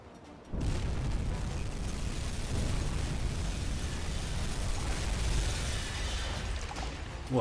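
Torpedo blast on a C3 cargo ship in the UBOAT submarine game, a sudden heavy boom followed by a long, sustained low roaring rumble that holds for several seconds.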